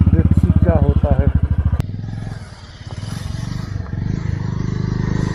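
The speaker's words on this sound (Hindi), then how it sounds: "तो एक बाइकर कोशिश कर रहा है जाने की" A motorcycle pushing along a snow-covered mountain road toward Gurudongmar Lake, its engine a loud close putter that drops off and then returns to a steady drone, with a voice speaking briefly at the start.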